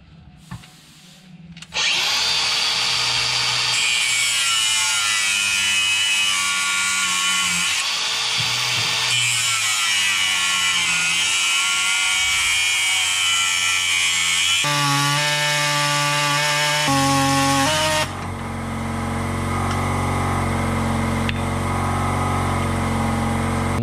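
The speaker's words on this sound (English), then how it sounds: "we're going to make the cut with the angle grinder, and then we're going to use the air saw to take the top off" Rear shocks from a VW T5 van are cut with an angle grinder, then an air saw: a loud, sustained metal-cutting whine close up, with shifting pitch and short pauses, followed by a steadier pneumatic drone.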